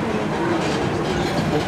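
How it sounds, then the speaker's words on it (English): A Disneyland tram rolls along with a steady, close rumble and faint rhythmic clatter, with no voices over it. "right now we're gonna hop on the tram"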